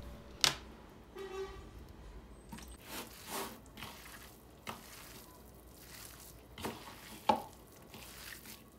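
Minced meat filling with added salt and vegetable oil being mixed in a bowl: soft, moist squishing and scraping strokes with a few sharper clicks, close and fairly quiet, in irregular bursts.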